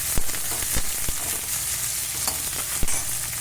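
Onions sizzle and fry in a pan for a ridge gourd curry, a steady crackling hiss with a few sharp pops and stirring clicks, close and alone without talk.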